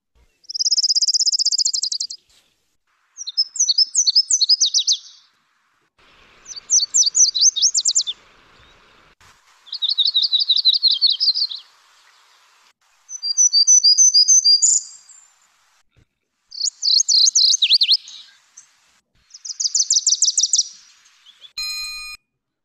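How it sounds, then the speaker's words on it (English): Several different warbler songs, including orange-crowned, Nashville, yellow and yellow-rumped warblers, play one after another, each a short burst of high trills and chirps separated by brief silences. "Okay, let's listen to the group of warblers."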